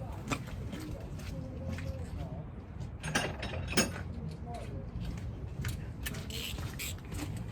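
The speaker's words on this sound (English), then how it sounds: "Let's get this tightened up first. Get an extension." A socket ratchet with an extension tightens a bolt on the suspension of a Ford Focus MK3 ST, giving repeated clicking ratchet strokes amid clanking and workshop noise, with faint bird calls in the background.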